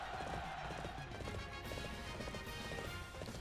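Horse hooves clip-clop in a steady running rhythm in the video game Arslan: The Warriors of Legend, loud and continuous over dense game noise.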